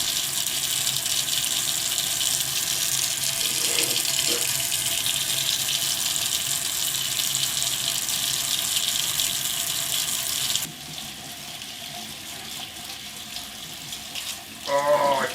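Water from a tap gushes steadily while an aluminum Yamaha YZ250 engine part is washed, then the flow drops to a softer trickle partway through.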